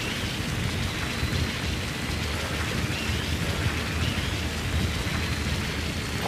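Steady rain and a low rolling thunderstorm rumble fill the scene in Metal Gear Solid V: The Phantom Pain, a continuous dense wash with no breaks and no voices.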